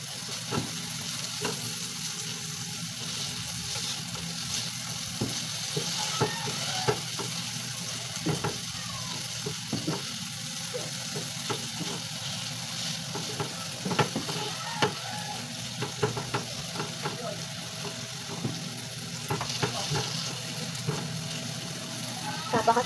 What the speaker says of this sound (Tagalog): Papakatasin natin yung kamatis.